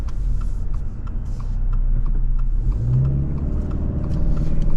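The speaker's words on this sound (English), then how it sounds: "it takes off from a standstill pretty well for the lower horsepower engine option in the Subaru" A 2024 Subaru Legacy Premium with the lower-horsepower engine pulls away from a standstill, a steady in-cabin engine drone that rises in pitch as it accelerates, with no talking.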